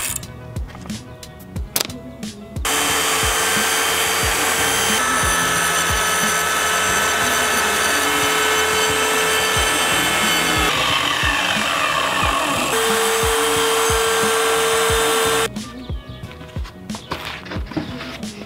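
A power tool cuts through 2-inch rigid insulation board laid on a tiny house subfloor, a loud, steady buzzing run of about thirteen seconds, with clattering handling noises before and after.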